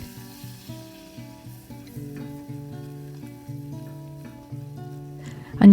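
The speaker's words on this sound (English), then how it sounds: "Once the butter's melted, then begin to add the flour and start to whisk" Melted butter sizzles softly in a pan over low heat as flour is whisked in for the white sauce of a fish pie. The bubbling and faint whisk strokes are steady and close, with a louder clatter at the end.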